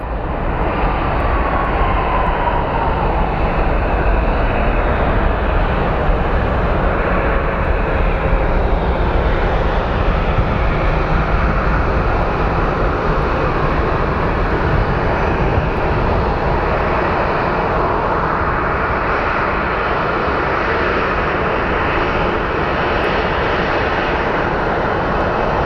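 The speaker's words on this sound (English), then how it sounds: "These Falcons are cool planes," Falcon business jet engines roar steadily at Phoenix Sky Harbor airport, a loud, continuous broadband rumble and whine holding for the whole stretch with no voices.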